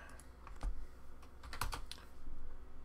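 Cards for the Lord of the Rings card game are shuffled close by, giving quiet, quick bursts of papery clicks and riffles.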